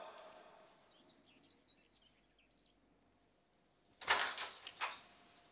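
A door banging shut indoors: a sudden loud rattling clatter after several seconds of quiet room tone with faint chirps.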